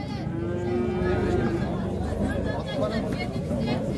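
Cattle lowing at a busy livestock market in Jalal-Abad, with drawn-out moos rising over a steady background of crowd chatter and nearby voices.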